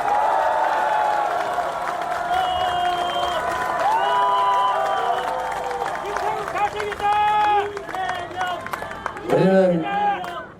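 A crowd applauds and cheers at an outdoor political campaign rally, a broad sustained wash of clapping and voices with shouts rising above it and a speaker's amplified voice near the end.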